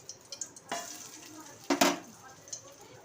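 Food sizzling and being stirred in a pan at home, with a couple of louder spatters and scrapes standing out over a low hiss, no voices over it.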